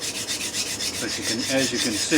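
A knife is stroked along a 400 grit Atoma diamond plate in a homemade guided sharpener, making a steady rapid series of gritty rubbing passes close up while a person talks over it.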